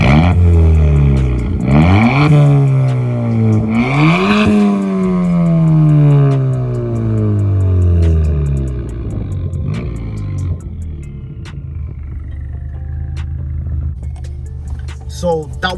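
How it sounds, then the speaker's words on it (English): A Ford Fiesta ST with a straight-piped exhaust revs up hard several times, its deep roar climbing and falling with each rev, then settles into a rumbling idle. "let me just start up and give you a couple revs."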